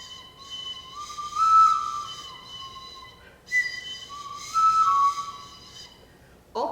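A short, fairly fat wooden flute with four finger holes plays high sustained notes in two phrases, breathy and clear, with a brief pause between them and no talk.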